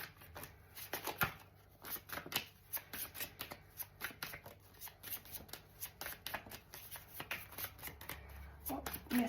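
Tarot cards shuffled by hand in a steady run of soft, papery riffles and flicks, close and fairly quiet, continuing without pause and with no talk.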